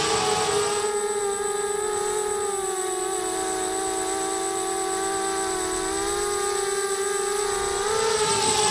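Racing quad drones flying, giving a steady, loud high-pitched motor whine with shifting tonal pitch that holds for several seconds without a break, close by and with no voices.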